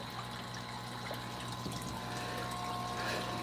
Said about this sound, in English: So, all the water from the pond enters in through here.